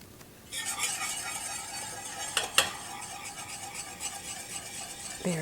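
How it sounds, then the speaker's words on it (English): Powdered sugar is stirred into a thick fudge mixture in a pan, a continuous scraping swish of the spoon with a couple of sharp clinks against the side partway through. "You want to slowly stir in the powdered sugar 1 cup at a time."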